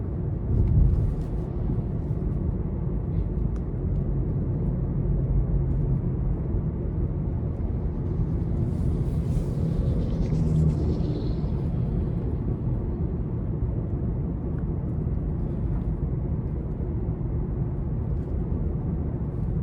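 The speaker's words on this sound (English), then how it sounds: "I can hear the engine just barely, but overall it's very quiet in here for this to be a compact car" Steady low engine drone and road rumble heard from inside a 2026 Nissan Sentra SV compact car while driving in eco mode, faint and even throughout with no talking.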